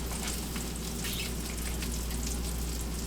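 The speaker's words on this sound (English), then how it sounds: "Burger's getting sizzled up." Burger patty and onions frying in a hot pan, a steady dense sizzle and crackle at moderate level with no voices.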